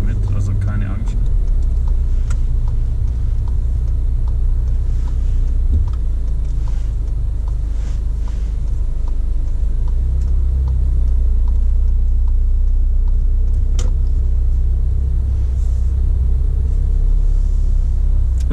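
A car driving through Tübingen during a driving lesson, its engine rumble and road noise holding steady and fairly loud from inside the cabin, with occasional faint clicks and a voice talking over it.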